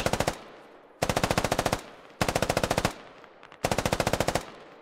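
Machine gun laying down suppressing fire in a game match, four loud rapid bursts of automatic fire separated by brief pauses, close and without talk.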